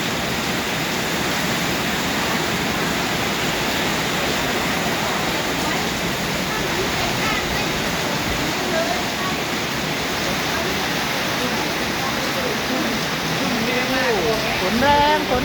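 Heavy rain and wind lash down during a storm at a house, making a loud, dense, unbroken roar of hissing noise that holds steady from start to finish with no break.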